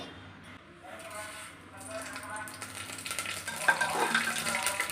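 Cumin and mustard seeds hit moderately hot oil for a sambar tempering. A faint hiss builds into a louder crackling sizzle with small pops, and a voice talks over it.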